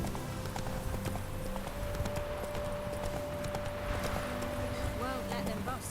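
Hooves of Roach, the horse in The Witcher 3, in a steady rapid clip-clop under a sustained music tone and game ambience, with background voice present.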